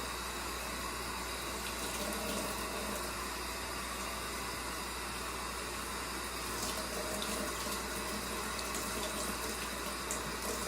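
A kitchen tap runs steadily with warm water being drawn for pizza dough, a continuous broadband rush of flowing water filling a cup or sink, close and even throughout with no talking.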